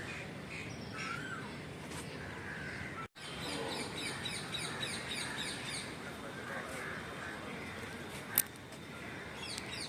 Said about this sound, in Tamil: ஜோடியாக இருக்காங்க மைனாக்கள்.